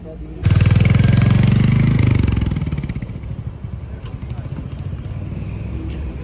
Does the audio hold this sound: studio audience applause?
no